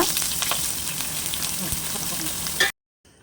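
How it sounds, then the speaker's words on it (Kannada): Oil sizzles steadily in a new frying pan, heating up before paneer is cooked, with faint stirring clicks before the sound cuts out abruptly near the end. "2 ಸ್ಪೂನಷ್ಟು ಎಣ್ಣೆ ಬಿಸಿ ಮಾಡ್ಕೊಂಡಿದ್ದೀನಿ"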